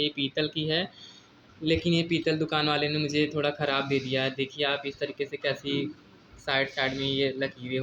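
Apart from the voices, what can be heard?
No distinct noise like a dog, phone or traffic.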